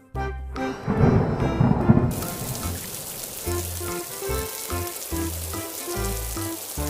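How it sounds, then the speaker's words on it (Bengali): Cartoon rain falls with a rumble of thunder, a hissing patter that swells early and then carries on steadily at a moderate level, with no speech. "এই সময় আবার বৃষ্টি এলো কোথা থেকে?"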